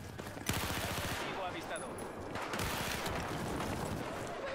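Rapid bursts of automatic gunfire in Battlefield 4 on the Dawnbreaker map, with dense overlapping shots and sharp cracks that carry on steadily throughout. Voices mix in with the shooting.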